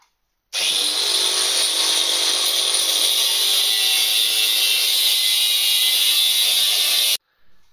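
A power tool with a steady, high-pitched cutting whine saws through scrap refrigerator compressors clamped in a vise, running loud and unbroken for about six and a half seconds before stopping abruptly.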